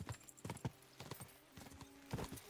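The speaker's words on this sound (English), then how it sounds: "Let's really spur these horses on, eh?" Horses gallop in a race in Kingdom Come Deliverance 2, quick clusters of hooves drumming close and loud in an uneven rhythm, with no talk over them.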